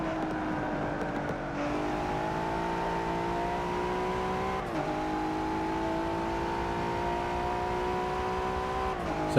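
A Ford GT supercar accelerates hard on a hot lap, its engine a steady rising drone that climbs through the revs, dips briefly at a gear change and climbs again, heard from inside over several seconds.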